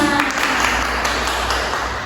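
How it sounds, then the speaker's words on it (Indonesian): A third-grade class claps hands during a science lesson, a short burst of brisk, fairly close clapping from a small group with a faint electronic tone running through it. "Tepuk tangan untuk kita semua"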